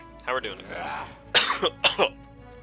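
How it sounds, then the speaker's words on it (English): A few short, harsh coughs and throat clears at close range, bursting in quick succession around a brief stretch of quiet. "I got a little bit of a cough."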